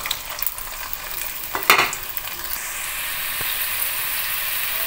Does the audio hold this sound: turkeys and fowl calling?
no